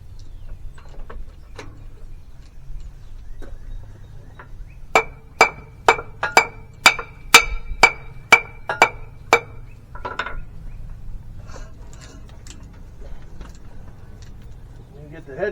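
Close, sharp metallic hammer taps, about ten in a steady run, drive a Bobcat excavator stick cylinder barrel onto its piston in a repair shop, with quieter clanks before and after and a low background hum.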